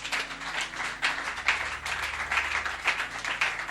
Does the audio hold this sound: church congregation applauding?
yes